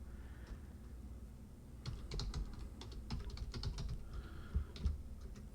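Someone types a password on a computer keyboard in a rapid, irregular burst of soft clicks and clacks, picking up after a short pause and ending with a couple of firmer keystrokes, over a low room hum with no talking.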